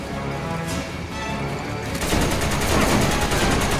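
Dense rapid gunfire fills a Resident Evil 5 fight against Wesker, a continuous loud rattle of shots that intensifies midway and keeps going without pause.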